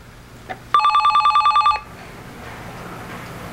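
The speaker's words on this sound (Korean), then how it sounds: "모두가 깊이 잠든 밤, 울리는 전화벨 소리." A telephone bell ringing at night in a 2002 Korean TV drama scene while everyone sleeps, a single loud burst of rapid metallic trilling lasting about a second, set against a quiet room.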